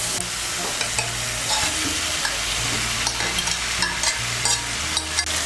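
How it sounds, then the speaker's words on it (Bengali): Fried vegetables being stirred into cooked spices in a pan for flattened-rice khichuri: continuous hot sizzling with repeated scraping and clattering strokes of a spoon against the pan, close up and with no talking. "সবজিগুলোকে মশলার সঙ্গে মিশিয়ে নেব, মিশিয়ে নিয়ে সবজিগুলোকে আরেকটু কষিয়ে নেব মশলার সঙ্গে।"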